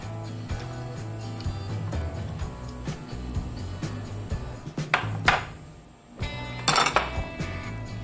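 A cup of chopped cabbage tipped into a kitchen bowl, heard as close clattering and knocking of utensils against the bowl, with a few sharper clinks and a brief quiet gap before more rattling.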